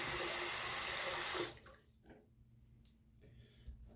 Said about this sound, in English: Let's throw some cold water on it.